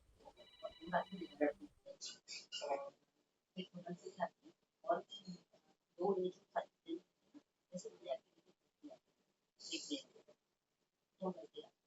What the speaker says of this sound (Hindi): एक फोन आ गया, अभी फोन आ गया